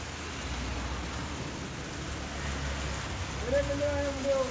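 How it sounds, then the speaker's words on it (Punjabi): Heavy rain with thick, fast drops falls outdoors near the villages around Kalanwali, a steady broadband wash of noise throughout, with a brief tonal sound and faint background activity near the end. "ਮੀਂਹ ਤੋਂ ਤੁਸੀਂ ਅੰਦਾਜ਼ਾ ਲਾ ਸਕਦੇ ਹੋ ਕਣੀਆਂ ਮੋਟੀਆਂ ਤੇ ਖਾਸੀਆਂ ਤੇਜ਼ ਹੋਊਗਾ"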